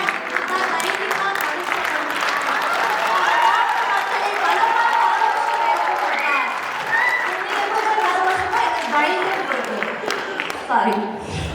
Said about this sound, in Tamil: எல்லாரும் கொஞ்சம் கரகோஷம் பலமா எழுப்பலாம்